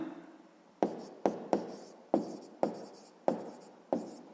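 A number being written by hand during a sixth-grade maths exercise, a series of sharp pen or chalk taps and strokes, about eight distinct marks spread irregularly, close and clear with no talking.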